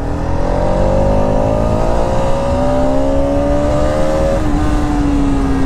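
A Bajaj Pulsar RS 200 motorcycle engine pulls hard through the gears, its loud steady drone rising in pitch, easing back, then climbing again as each shift lands, with no talking.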